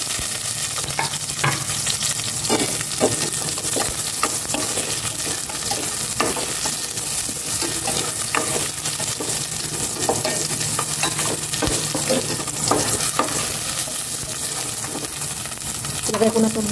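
Onions sautéing in a pan for pork adobo with tofu: a steady broadband sizzle of frying runs throughout, punctuated by repeated scraping and stirring knocks of a utensil, close and continuous, with no talking.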